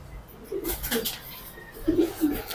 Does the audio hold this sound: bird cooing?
yes